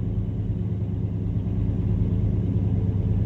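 A truck engine idles with a low, steady rumble, rough and uneven at low throttle, heard close up with no one talking.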